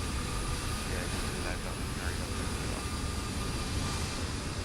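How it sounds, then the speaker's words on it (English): Steady roar of aircraft engines idling and taxiing on a crowded airport apron in a Vatsim flight simulator, a constant broadband rumble throughout with no talk. "It's a lot of engine noise."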